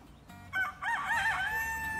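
A rooster on a backyard flock of chickens crows once, a loud, close, drawn-out cock-a-doodle-doo that rises and wavers before trailing off.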